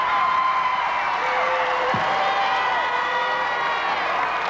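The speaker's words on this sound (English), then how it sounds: "gets quite a roar from this capacity crowd" Capacity arena crowd at a 1985 Championship Wrestling match roaring and cheering in a sustained, loud wash of voices, with scattered whoops and clapping throughout.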